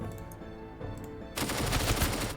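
Gunfire during a battle in the Warsaw 1944 Polish Uprising video game, a dense rapid burst of shots that swells louder partway through over a steady game soundtrack, with no talking.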